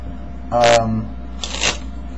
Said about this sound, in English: So when you shuffle, kind of leave a good chunk on the top